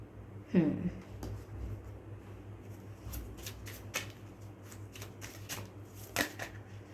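A deck of cards is shuffled and a card drawn, giving a series of quick, close flicking riffles and soft snaps spread across the clip, with a faint voice in the background.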